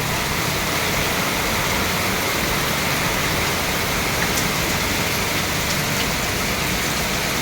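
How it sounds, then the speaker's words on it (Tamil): Heavy rain pours steadily throughout in Cuddalore district, India, a dense, constant hiss of drops hitting surfaces, loud and close with no pauses. "செம்ம மழை பெய்யுது"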